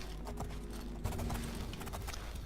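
Horse hooves clip-clopping in the video game Oblivion, a rhythmic series of quiet hoof strikes against a steady low ambient bed, faint and continuous without speech.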